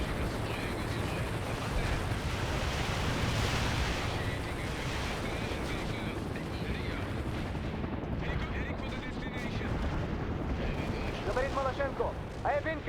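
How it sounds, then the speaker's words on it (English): Artillery fire in the World in Conflict strategy game during a POW camp defense battle: dense, loud rumbling blasts and crackling gunfire roll on continuously, with voice chatter mixed into the din. "I have incoming artillery fire on all my positions"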